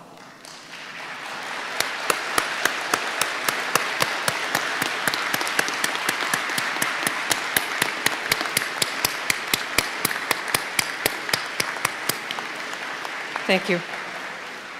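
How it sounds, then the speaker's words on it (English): A graduating class at a university spring convocation applauding, with sharp claps beating in a steady, even rhythm for about ten seconds, then fading as a voice briefly speaks. "convey your thanks and gratitude to family and friends through a warm round of applause"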